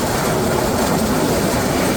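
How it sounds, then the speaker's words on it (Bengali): Down Simanta Express passenger train running in Bangladesh, heard as a loud, steady rumble and rush of wheels and carriages that never lets up. "আজকে কিন্তু আমরা ভ্রমণ করছি ডাউন সীমান্ত এক্সপ্রেসে"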